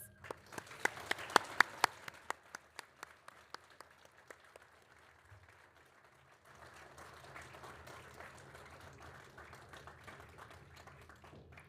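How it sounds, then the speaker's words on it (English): Graduates and guests applaud at a University of Suffolk graduation ceremony. The clapping is fairly quiet and distant, with a few sharp claps standing out early, then a softer, steady patter that picks up again after a brief lull. "join me in a round of applause"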